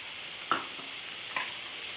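Fried broad beans and peanuts are stirred in a pan, with two faint spatula scrapes over a steady low sizzle and no talking.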